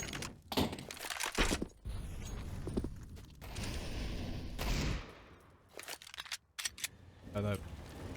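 Pistol fire in a professional Counter-Strike esports match: scattered sharp shots and short bursts ring out in quick succession while a commentator talks over much of the action.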